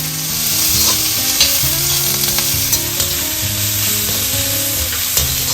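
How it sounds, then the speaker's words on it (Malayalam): Sliced onion stirred and frying in a pan for mutton roast, giving a loud, steady sizzle with scraping stir strokes throughout and no voices. "സ്ലൈസ് ആയിട്ട് അരിഞ്ഞത്, അതും കൂടി ഇട്ടൊന്ന് മിക്സ് ആക്കാം."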